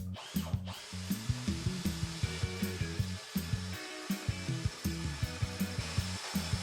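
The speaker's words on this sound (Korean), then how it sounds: "이번엔 3T짜리 C형광을 준비했는데요. 6mm 다시 한번 뚫어보면" Bosch GSB/GSR 18V-55 cordless drill boring a 6mm hole through 3mm-thick steel C-channel: a close, loud motor whine with rhythmic pulsing bursts as the bit bites into the metal, steady throughout.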